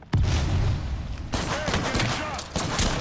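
A thermite grenade goes off in the shooter Apex Legends amid a fusillade of gunfire, with sharp bursts and booms layered through a loud, busy firefight.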